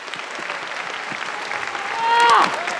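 Crowd applause fills a kickboxing event hall after the fights, sustained and dense throughout and swelling louder near the end, with a voice over the PA partly heard beneath it.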